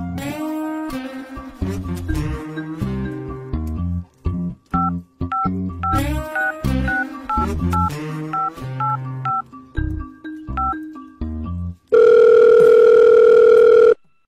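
A rapid sequence of telephone keypad tones plays in varied pitches, then a steady, loud dial tone holds for the final couple of seconds.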